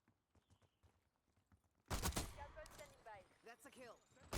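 Gunfire from a GS-45 in a video game: after a quiet lead-in with faint background noise, a loud burst of shots breaks out and continues with rapid reports and game effects.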